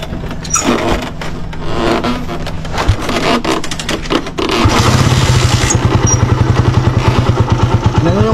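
A motorcycle with a misfiring engine that stalls under throttle cranks and catches partway through, then settles into a close, loud, rhythmic idle with a slightly uneven pulsing beat.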